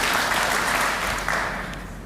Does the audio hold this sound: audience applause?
yes